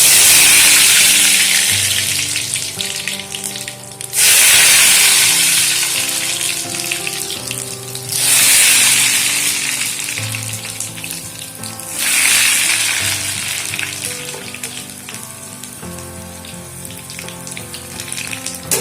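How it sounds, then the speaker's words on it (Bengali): Egg chops deep frying in very hot oil in a wok, a loud, close, bubbling sizzle that surges in four strong waves as pieces go in, then settles between them, with no talking. "চপগুলো ভাজার জন্য কড়াইতে তেল দিয়ে দিয়েছি, তেল খুব ভালোভাবে গরমও হয়ে গেছে। এবারে একে একে চপগুলো ভেজে নেব।"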